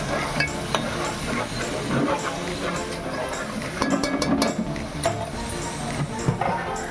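Coconut, onion and Shankeshwari chilli paste is stirred in a pan for fish gravy, with continuous scraping and clattering of a spoon against metal over a faint sizzle.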